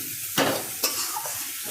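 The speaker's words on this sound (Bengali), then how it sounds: "এবার আলুটা দিয়ে একটু ভাজা ভাজা হবে" Potatoes being fried and stirred into a cooked-down spice paste for a dumpling curry, with a steady soft sizzle and two sharp scraping stir strokes against the pan, no talking.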